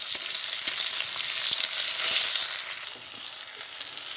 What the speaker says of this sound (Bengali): আমি এবার পেঁয়াজ কুচোগুলো দিয়ে দিলাম।